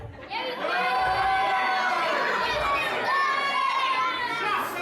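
A wrestling crowd boos a wrestler in a loud, sustained wave of many voices with whoops and shouts, filling the hall continuously from start to finish.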